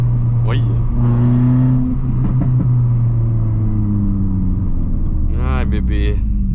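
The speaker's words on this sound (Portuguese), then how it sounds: "Agora tá indo e cortando" Renault Sandero RS engine revving and cutting out, a loud steady rumble with rising and falling engine pitch and sharp drops as the revs cut, heard close with voices talking over parts of it.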